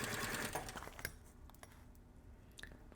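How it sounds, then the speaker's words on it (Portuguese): A sewing machine stitches a zipper channel on a sewn kit piece, a fast buzzing run up close that stops after about a second, leaving a few faint clicks and taps. "fazendo uma costura aqui com calma"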